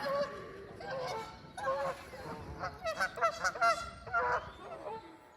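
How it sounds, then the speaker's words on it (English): Geese honk and squabble in a series of loud, rhythmic calls, with brief pauses, at a park lake where ducks and other birds are also present. "just happiness to see all this activity with the ducks and the birds and the geese"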